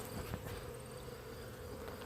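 A low, steady hum of many honeybees buzzing close together inside an opened hive, continuous and fairly quiet, with faint higher whines drifting through.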